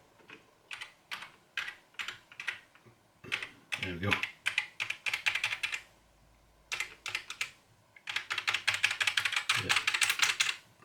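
Keys clatter in rapid bursts on a repaired Amiga 600 keyboard after a membrane fix, with brief pauses between runs and a short spoken remark in the middle.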